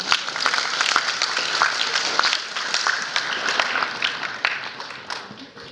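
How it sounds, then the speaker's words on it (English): A crowd claps continuously for several seconds, a thick, even wash of many hands with crisp individual claps standing out, at moderate loudness and without clear speech. "You guys clap if you want."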